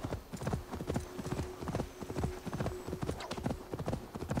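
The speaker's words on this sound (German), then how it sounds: "Dann müssen wir diesen Esel hier nicht mehr reiten." Donkey hoofbeats from Assassin's Creed Valhalla while riding, a steady rapid clip-clop of hooves repeating throughout, close and prominent.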